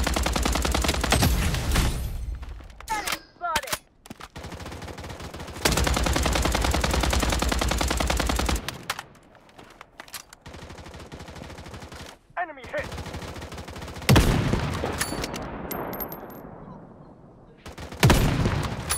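Gunfire in the multiplayer shooter Blood Strike comes as loud, sustained automatic bursts broken by short pauses, with in-game voice callouts between volleys.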